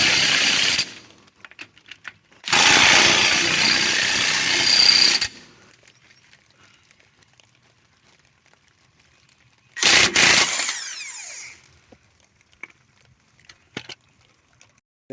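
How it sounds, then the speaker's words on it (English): A power tool snugs the lug nuts on a Hyundai Tucson wheel in two loud, rattling impact bursts, the first about three seconds long and the second brief, with quiet clicks between. "now we want to tighten the lug nuts in a"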